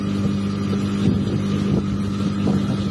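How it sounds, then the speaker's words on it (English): Loud, steady wind rush mixed with a low engine drone while riding a Benelli BN 150 motorcycle, continuous and close, with no talk. "I can hear the wind sound myself"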